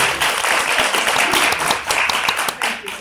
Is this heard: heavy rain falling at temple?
no